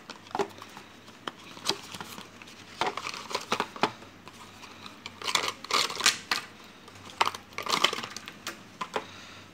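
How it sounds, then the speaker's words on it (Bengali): Smartwatch accessories — a leather strap, wireless charger and warranty card — being unpacked from their box, with scattered crisp rustles, taps and crinkles of packaging in irregular bursts, close and fairly quiet, with no talking. "সবগুলো খুলে দিচ্ছি।"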